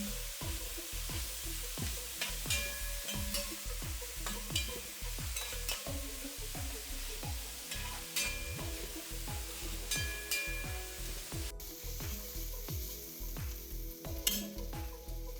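Sliced onions frying in a pan for a duck curry, a soft continuous sizzle broken by regular scraping strokes of a spoon stirring them, close and fairly quiet.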